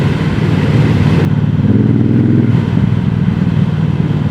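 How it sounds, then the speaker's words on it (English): A 2026 Triumph Bobber 1200 with its stock exhaust gives a deep, close engine rumble while riding, with a steady low throb and a slight drop in tone partway through as it eases off. "Even with the stock exhaust, it's just got that nice deep tone to it."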